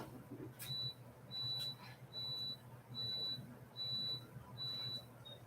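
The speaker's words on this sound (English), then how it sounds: "You guys hear that beeping too?" Repeated high electronic beeps, most likely a smoke alarm, sound from across a field and woods, coming in seven evenly spaced short tones, faint and distant over a low background hum.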